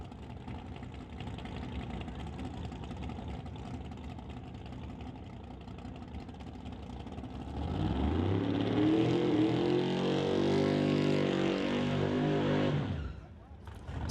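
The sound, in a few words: twin-turbo Chevy Nova drag race car engine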